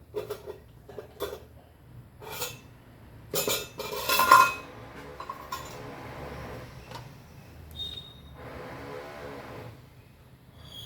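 A metal pot clanks onto a stove with several sharp clinks and knocks, followed by a softer, quieter stretch as oil is poured in, close by with no talk.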